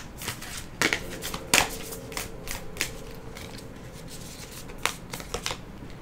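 Tarot cards being shuffled and handled, a run of soft papery riffles and sharp flicks spaced irregularly across a quiet room, close and moderately loud, with no talking.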